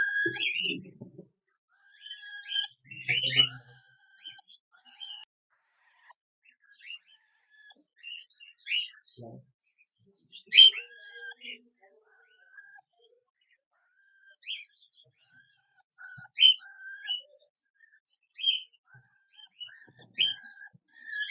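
Thin, high chirps from newly hatched cockatiel chicks come in scattered short bursts, fairly faint, with quiet gaps between calls.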